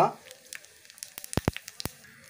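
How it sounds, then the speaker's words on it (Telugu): Dried red chillies and cumin seeds hit hot oil for an amaranth-leaf pickle, giving a quiet scatter of sharp pops and crackles, with a few louder spits standing out over a faint hiss. "ఇలా ఆయిల్ వేడైన తర్వాత ఇందులో 2 ఎండుమిర్చి, కొంచెం జీలకర్ర,"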